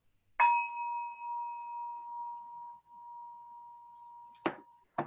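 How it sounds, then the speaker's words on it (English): A single bell is struck to open a religious service held on family farmland, giving a clear ringing tone that decays slowly over several seconds, then two short knocks or handling sounds near the end, no speech. "we like to start our service with a bell,"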